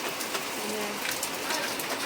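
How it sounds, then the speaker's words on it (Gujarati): Steady rain falls outdoors at night during a power cut, a dense even hiss of drops on surfaces running throughout, with faint speech-like sounds in the background. "વરસાદ ભલે આવતો રહી"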